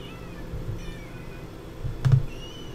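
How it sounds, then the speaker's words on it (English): Faint, short cat meows in The Sims 3 video game sound a few times over a quiet background hum, with a soft thud near the end. "do you hear them meowing?"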